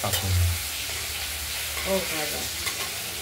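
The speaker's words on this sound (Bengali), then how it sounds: "আলুটা ভাজা হয়ে গেছে" Potatoes frying in a pan for a paneer and potato curry give a close, continuous sizzle, with stirring scrapes mixed in.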